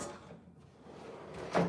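A kitchen drawer holding microwave cookware slides and bumps shut with one soft knock near the end, quiet and close, with no talking.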